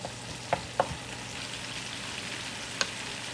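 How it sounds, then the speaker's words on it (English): Cabbage sautéing in a pan for a late-night pork stir fry, a soft steady sizzle with a few sharp clinks of a utensil against the pan, quiet and without voices. "I'm going to have the cabbage. Get that sauteed on."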